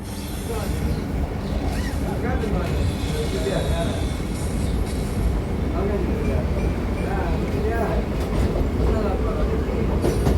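A Chennai suburban circular train (Egmore–Central route) rumbles past steadily with rhythmic clattering of wheels on rails, loud and close, with faint voices mixed into the noise.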